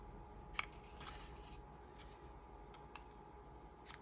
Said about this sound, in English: That's my little scissors.